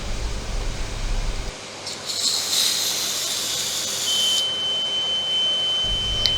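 A high, steady electronic alarm tone from a ship engine-room oil mist detector sounds continuously for a couple of seconds over machinery hum, then a thinner pure tone lingers alongside the background drone.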